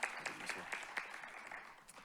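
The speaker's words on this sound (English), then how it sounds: "Give him a round of applause." A lecture audience gives a round of applause, with soft, fairly distant clapping that comes in a few louder bursts before thinning out.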